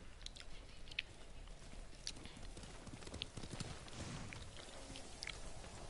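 Horse hooves clop on the ground in a video game in an irregular rhythm amid soft ambient noise, faint and close.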